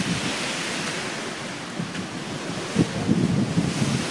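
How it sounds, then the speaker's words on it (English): Hurricane Sandy storm surge on Long Island in 2012 sends seawater rising over a waterside deck, heard as a steady, loud roar of wind and surging water with choppy splashes building toward the end. "The water's just like coming up my fucking deck."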